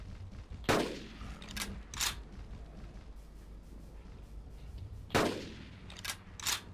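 Hunting rifle shots in Carnivores Dinosaur Hunt on PS4 Pro, two clusters of loud, sharp cracks with short echoing tails, each followed by quicker follow-up bursts over a quiet outdoor ambience.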